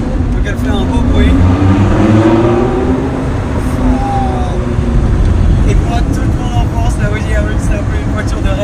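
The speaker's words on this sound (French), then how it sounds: "Il y a l'échappement dessus, Zenrage, donc elle fait un beau bruit." An Audi R8 V10 Plus fitted with a Zenrage exhaust runs with a steady, loud engine drone and rising revs, close by, with voices over it.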